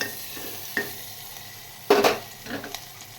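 Mixed winter vegetables, including papaya, fry gently in a pan with a soft background sizzle, broken by a few scraping stirs and one louder burst of stirring midway.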